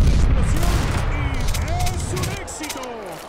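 Counter-Strike gunfire, a dense burst of rapid shots and booming blasts fading over a few seconds, with a voice talking over it and faint electronic tones.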